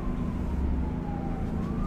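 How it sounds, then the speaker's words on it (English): Several emergency vehicle sirens wail together at a distance, their rising and falling tones sliding slowly over a steady low rumble of traffic and street noise. "there's a whole bunch of sirens in the back"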